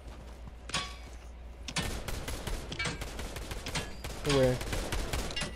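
Fortnite gunfire crackles in scattered sharp shots and short bursts at moderate distance, interleaved with excited voices talking over the fight.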